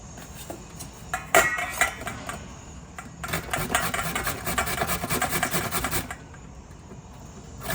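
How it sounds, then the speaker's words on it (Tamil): Rough rasping scrapes of carrots being grated run steadily for a few seconds after a sharp clink, then stop, leaving quiet kitchen background. "இதை வச்சுட்டு நம்ம அந்த கேரட்டை துருவிட்டு"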